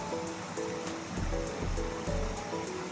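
A hiking-trail stream in See Canyon, Tonto National Forest, rushing and splashing steadily, a constant broadband wash with a faint tonal hum running beneath it.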